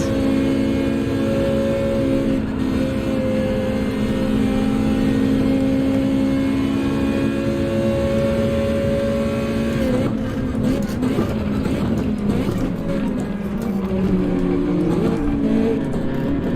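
Race car engines roar steadily in Gran Turismo during a mixed-conditions daily race at Spa, a sustained loud drone with shifting pitch and a burst of nearby cars passing and revving in the second half.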